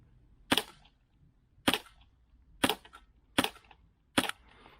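An airsoft gun fires BBs at a target, giving five sharp, evenly spaced snaps about a second apart, close and clear with quiet gaps between them.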